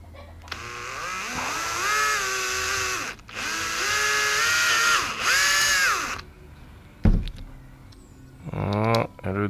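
A power drill bores holes into a GoPro Hero 7 Black case, whining loudly in two long bursts with a brief pause between, then a thud and a shorter rising spin-up near the end.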